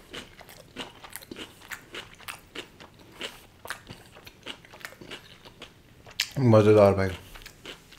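Someone bites into a Domino's cheese burst pizza with black pepper paneer makhani, dipped in chutney, giving one loud, close crunchy bite near the end after ongoing talk.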